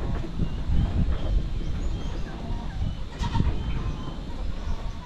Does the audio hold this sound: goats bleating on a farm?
yes